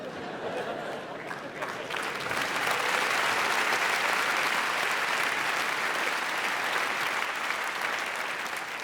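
Audience at a stand-up comedy gala in Montreux breaking into applause, loud and sustained clapping from a full crowd that swells after a couple of seconds and carries on steadily.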